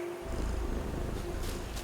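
A cat purrs in the video game Viewfinder, a steady, close, low rumbling purr running throughout with no talk over it.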